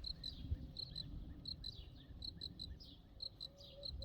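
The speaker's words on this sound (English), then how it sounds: "I think it's a cricket or something like that. I don't think it's a frog." Crickets chirp outdoors at night in a homestead garden, repeated high pulsing trills in a steady rhythm over a soft background hiss, moderately distant and quiet.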